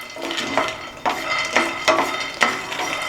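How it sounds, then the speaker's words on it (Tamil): Raw peanuts dry-roast in a pan, stirred in steady strokes that bring a rattling scrape about twice a second, close and alone. "இது வறுக்காத பருப்பு, ஸோ ரொம்ப நேரம் வறுக்கணும்."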